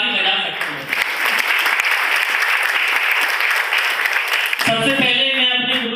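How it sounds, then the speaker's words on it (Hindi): A hall crowd at a wellness company level-achievement ceremony claps loudly and continuously, a bright dense patter of many hands, with voices and tonal sound rising over it near the end. "आप चाहें तो ताली बजा सकते हैं।"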